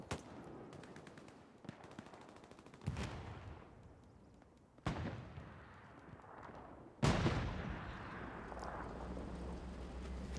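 Mobile self-propelled artillery in the Hell Let Loose video game fires in heavy, booming blasts, three strong impacts roughly two seconds apart over a rumbling background of distant gunfire, with no talk.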